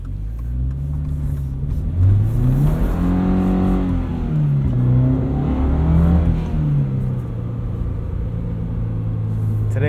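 Lifted safari-style 2022 Subaru BRZ driving a bumpy, potholed back road in dry conditions at about 45–50 mph, its engine droning steadily with rising and falling revs as it shifts, a continuous close rumble throughout.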